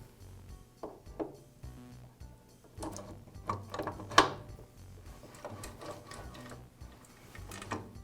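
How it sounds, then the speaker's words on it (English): Feed shaft being turned into a Jet drill press, its gears meshing with quiet, irregular metallic clicks and ratcheting taps, close and faint with no talk. "install the feed shaft, rotating it until the gears align"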